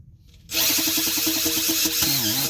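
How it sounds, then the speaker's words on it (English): A whiz wheel spins up abruptly and grinds steadily around a hole in a tire during a repair, a close, loud, continuous high whine with slight pitch wavers near the end. "you're going to take a whiz wheel and you're going to clean up this area all around this hole"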